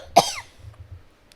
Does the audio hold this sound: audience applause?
no